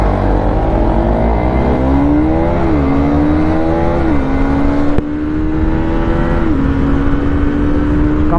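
A radio-controlled car's engine revs loud and close as it drives, a continuous whine that climbs in pitch, drops as it shifts up through the gears, then climbs again.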